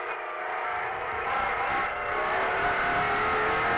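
A rally car from a Morocco Desert Challenge stage drives hard with a Spanish driver at the wheel, its engine roaring steadily and climbing in pitch as it accelerates, loud and close throughout.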